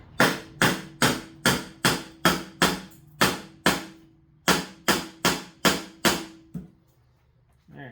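Sharp metallic hammering on a screwdriver driven against a tight engine intake during a Saleen S351 engine teardown, about a dozen loud close strikes in steady rhythm, then quiet.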